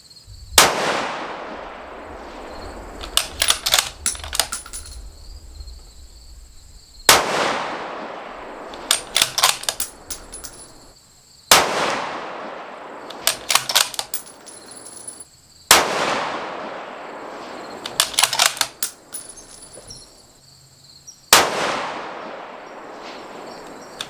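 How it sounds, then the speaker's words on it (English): Five loud, sharp rifle shots from a Tikka T3X Tac A1 in 6.5 Creedmoor firing Hornady Match 147 ammunition, spaced several seconds apart, each followed by a rolling echo and faint clicks of bolt handling at an outdoor range. "I'm shooting the Hornady Match 147 right now"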